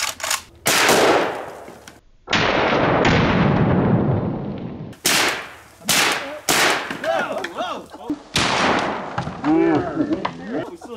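AK-47 rifle fired at zombie target heads outdoors, several loud close bursts of rapid gunfire separated by short pauses, with people talking between volleys.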